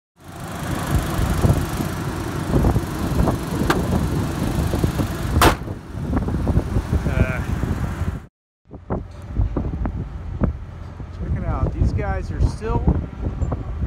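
Strong wind blows outdoors near a construction site, pounding the microphone with heavy low rumble for most of the clip. There is a brief dropout partway through, then gusts resume while someone speaks briefly.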